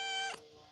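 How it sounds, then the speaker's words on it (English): A single short, high meow from a cat, close and fairly quiet, fading quickly into near silence. "Oh, sweet kitty."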